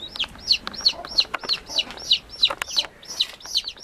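Chickens cluck in a pen, a steady run of short, sharp repeated clucks about every third of a second, moderately close with a faint background.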